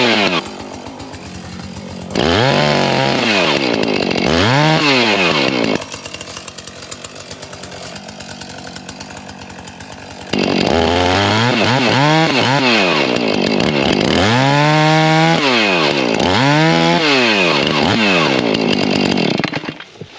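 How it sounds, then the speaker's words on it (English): A chainsaw cuts through brush up close, revving loudly in repeated bursts with rising and falling pitch and dropping back to a rough idle between cuts. "So fire the chainsaw up."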